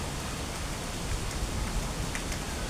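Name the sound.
garden fountain water splashing, Waterfall Garden Singapore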